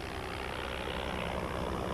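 An early propeller airplane engine drones loudly and steadily, a continuous throbbing roar with no voices over it.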